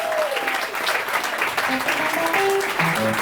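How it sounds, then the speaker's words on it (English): Applause from a live audience at a small music venue during a songwriters' benefit evening, a dense steady patter filling the room with a few faint tonal notes drifting through. "can we give a big round of applause to John"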